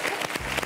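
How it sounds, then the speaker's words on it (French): Theatre audience applauding at a live evening show, a brief burst of dense, steady clapping from a crowd. "On les applaudit"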